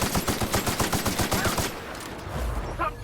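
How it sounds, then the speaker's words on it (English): Shotgun blasts in the video game The Outer Worlds, loud rapid repeated booms in a steady burst for over a second, then fading into a lower rumble with no talking. "Shotgun to the face."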